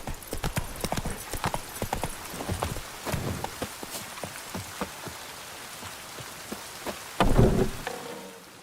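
Rain pours in The Witcher 3: Wild Hunt as a steady soft hiss. Horse hooves clop over it in an uneven rhythm, and a heavier burst of thuds comes near the end.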